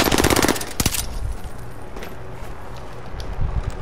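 Rapid automatic gunfire rattles in a quick, loud burst during a battle royale video game match, followed by quieter distant shots and background game noise.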